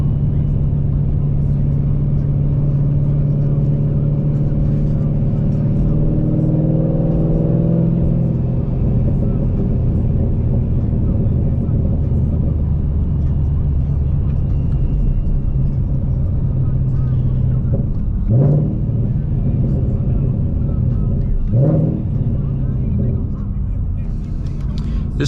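A Vortech-supercharged Ford Mustang, tuned on pump gas, drives on the street, its engine a steady low rumble heard from inside the car, with a few brief swells of acceleration toward the end.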